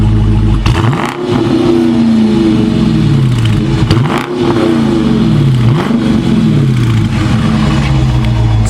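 A 2020 Dodge Challenger R/T V8 engine revs up loudly three times in a row, each rise climbing then falling back to idle, capped by a soft limit around 3,000 rpm, heard up close with no talking.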